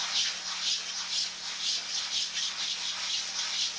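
A carving is hand-rubbed with a fine, high-grit sanding belt, giving a soft, hissing scrape that repeats in a steady back-and-forth rhythm, close and moderately loud.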